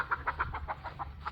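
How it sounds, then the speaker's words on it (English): A young hen in a backyard fall garden clucks softly in a quick series of evenly spaced notes, faint over low background rumble. "Flash, get that chicken."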